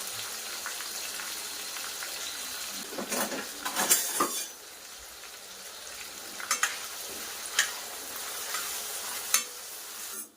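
Onion and tomato fry in a pan with turmeric and curry leaves, a steady soft sizzle running throughout, broken by a few louder scrapes and clinks of a spoon stirring against the pan.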